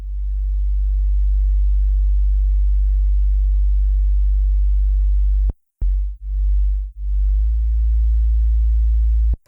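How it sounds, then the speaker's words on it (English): A synth bass from an Operator patch plays a deep, sustained sine tone with erosion and saturation. It holds as a steady, loud hum, then breaks into a few short pulses with brief gaps before resuming. "this is just a sine wave with a bit of erosion and some saturation"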